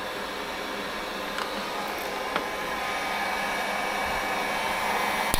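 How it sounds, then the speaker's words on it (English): A heat gun running on its low setting, drawing about 800 watts from a DIY 24V solar power station, gives a steady, even blowing roar throughout, close and continuous, with a few tiny clicks. "using the same heat gun at low setting here"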